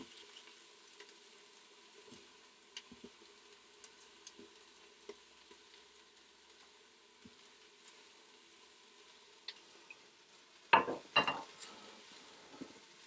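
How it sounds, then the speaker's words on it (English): Onions and mushrooms frying in oil in a multicooker, a quiet steady sizzle with faint ticks and crackles throughout, then a brief louder clatter and hiss near the end. "I'm going to add in a little drop more oil, and then I'm going to put in my mushrooms"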